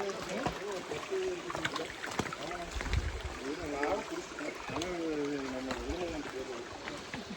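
A forest stream rushes and trickles along the Mannavan Shola trail in Anamudi Shola National Park, a continuous watery wash with people talking over it throughout.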